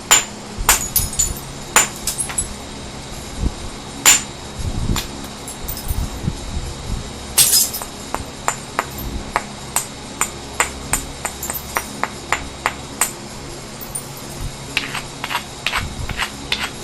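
Stone knapping outdoors: sharp, bright clicks of flakes being struck off come at irregular intervals, many in quick succession, over faint wind and rustle.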